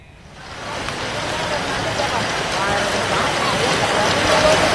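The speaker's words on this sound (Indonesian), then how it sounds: "hujan deras mengguyur Jakarta sejak sore hari" Heavy rain pours down in Jakarta: a dense, steady, loud downpour that swells slightly and holds throughout. A voice sounds faintly underneath.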